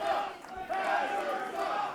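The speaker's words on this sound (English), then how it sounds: "the Canadian crowd letting Hazard know that he sucks after calling the 51st state" A Canadian wrestling crowd jeers a heel at a live show, a loud, sustained wall of booing and shouting voices swelling and dipping without pause.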